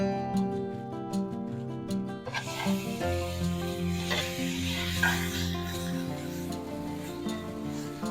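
Spices sautéing in a pan with tamarind added while making Kumbakonam kadappa, a steady sizzle with stirring scrapes that grows busier partway through, close and continuous with no talking.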